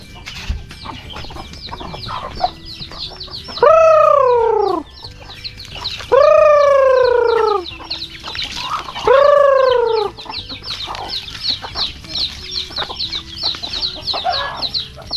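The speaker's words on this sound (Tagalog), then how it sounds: "Pakita ko sa inyo yung mga chicken natin." Farmyard chickens cluck steadily and fairly close, broken by three loud, drawn-out rooster crows spaced a few seconds apart.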